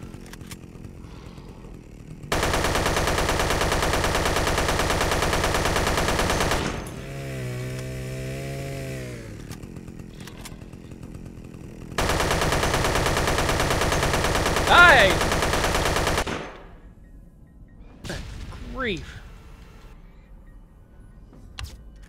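Sustained automatic gunfire from the zombie shooter game Dead Effect, loud and continuous in two long bursts broken by a harsh whining, warbling effect, with a few softer game sounds afterward.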